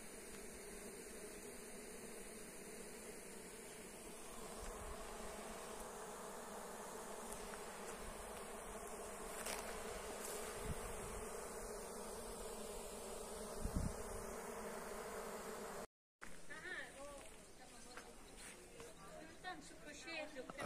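Steady buzzing of many honey bees close by at a hive entrance, continuous throughout with a brief dropout near the end and faint outdoor background.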